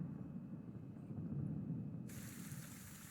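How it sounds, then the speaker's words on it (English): A heavy downpour used as tabletop-game ambience: a steady, dense hiss of rain with a low rumbling undertone, continuous and unbroken, with no voices. "the warm and gentle rain that y'all had yesterday, it has become a downpour"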